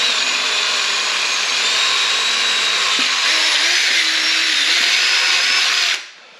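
A power drill whines steadily at close range, boring a hole in a Can-Am Maverick X3 for a battery upgrade, its pitch shifting slightly, then spins down and stops abruptly near the end.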